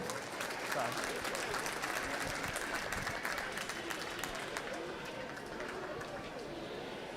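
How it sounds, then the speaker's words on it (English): A big crowd breaks into dense, steady applause for the kids at a youth livestock goat show, a continuous roar of clapping mixed with chatter that holds at one level throughout. "Let's give all them kids a big round of applause."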